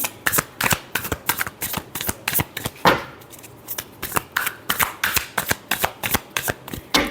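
Tarot cards being shuffled by hand in a quick, steady run of crisp riffling snaps, repeating for about seven seconds close to the listener, with a brief pause near the middle and no talking.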